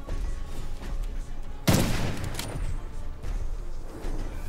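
A single sharp gunshot blast from the video game Witchfire cracks out loudly near the middle, set against a low rumbling ambient background, with a fainter follow-up burst shortly after.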